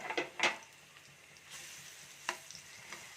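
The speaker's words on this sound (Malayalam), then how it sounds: "അപ്പം ഞാൻ ഈ പഴനുറുക്ക് ഇതിലോട്ട് അങ്ങോട്ട് ഇട്ട് കൊടുക്കുകയാണ്" Nendran banana pieces go into a hot pan: a few sharp clatters and splashes, then a soft, continuous sizzle underneath, close by and fairly quiet, with no talking.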